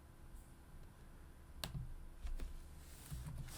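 A few scattered, close keystrokes on a computer keyboard, soft clicks with gaps between them over low room hum, no voices.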